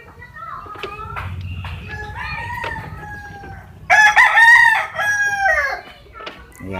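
A rooster crows loudly and close by, a long harmonic call rising over steady background chatter and outdoor noise.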